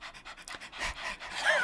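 A person does a breathing exercise known as the dog, panting rapidly with the tongue out in a steady run of short, breathy pants, close and fairly quiet, with no speech.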